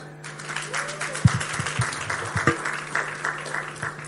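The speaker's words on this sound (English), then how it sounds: "Please, another round of applause for Temi Aino." A book launch audience clapping, a patter of separate claps that is fairly light and close.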